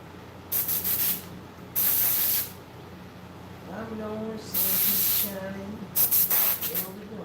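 Carburetor cleaner sprayed from an aerosol can into a split-apart airbrush, four loud close hissing bursts of about a second each with short gaps, someone talking faintly in between.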